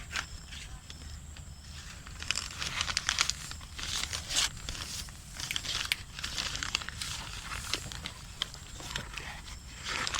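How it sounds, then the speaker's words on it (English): A paper or butter-paper bag crinkles and rustles as it is fitted over a maize cob in a field, with irregular crackling handling sounds close by for about ten seconds. "It should be a paper bag or butter paper bag like this."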